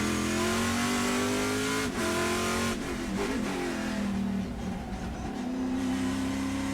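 A Chevrolet Camaro Trans Am race car at Portland roars under throttle, then the engine note breaks up and drops through several downshifts under braking before climbing again, loud and continuous throughout.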